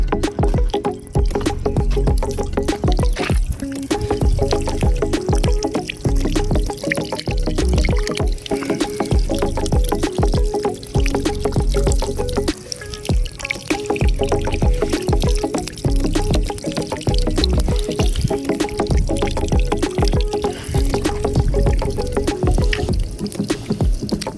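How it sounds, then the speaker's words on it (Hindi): Water rising straight out of the ground pours and gushes loudly and steadily at close range, a dense continuous flow in an evening outdoor setting. "सीधा जमीन से आ रहा पानी गाइस, आप पीते होगे बिसलेरी पानी, ये सीधा जमीन से आ रहा पानी।"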